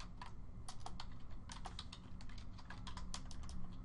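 Rapid clicking of computer keyboard keys during a live webinar, a steady stream of light taps close to the microphone over a low background hum, with no voices.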